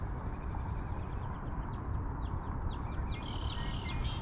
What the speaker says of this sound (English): And the red-winged blackbirds.